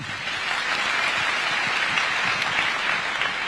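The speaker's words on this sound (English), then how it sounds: "Another round of applause for His Excellency." Steady, dense applause from an audience at State House for President William Ruto after his address on the affordable housing programme, filling the space evenly throughout with no voices above it.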